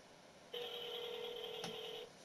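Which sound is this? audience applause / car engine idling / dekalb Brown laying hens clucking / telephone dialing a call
telephone dialing a call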